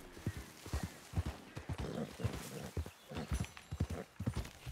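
In Red Dead Redemption 2, a horse's hooves clip-clop in a steady, close walking rhythm, with a few heavier thuds mixed in, at moderate volume with no voices.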